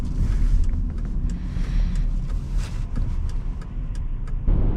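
A 2011 Volvo XC60 T6 AWD being driven, heard from inside as a steady low engine and road rumble with faint scattered clicks, continuous throughout.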